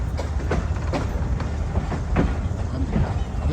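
A passenger train running on the Karachi to Gujranwala line near Lahore, a steady loud rumble with rhythmic clickety-clack of wheels over rail joints, with faint voices in the carriage.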